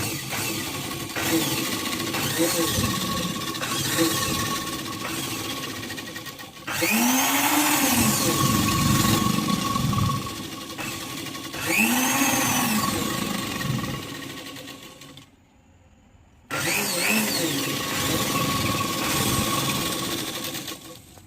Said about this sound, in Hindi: यहाँ से फिर ऐसे सिलाई सीधी कर देंगे